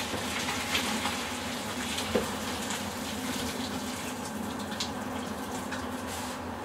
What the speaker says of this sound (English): as soon as that water's come out the colander